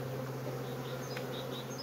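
Steady, close buzzing of a honeybee colony, a continuous droning hum that holds at an even level throughout without pauses.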